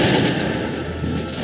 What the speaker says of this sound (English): Artillery is firing on our troops.